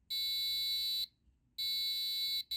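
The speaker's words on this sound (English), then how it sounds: "and the buzzer makes noise." Piezo buzzer on an Arduino robot triggered when something gets too close, giving two long, loud, steady high-pitched tones separated by a short pause.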